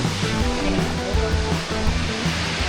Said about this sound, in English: We have come now to the base of the waterfall.